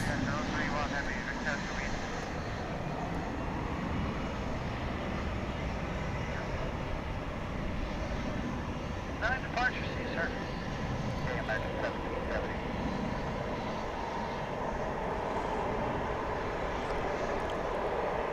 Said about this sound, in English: that was American Flight 612 and 737-800 coming in from El Paso in West Texas